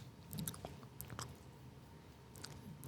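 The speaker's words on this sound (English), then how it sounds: "Stop chewing in the mic." Faint, close-miked chewing sounds right at the microphone: soft wet squishes and small crunchy bites scattered over a low background hum.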